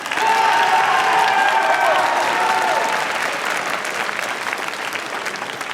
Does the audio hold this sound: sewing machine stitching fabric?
no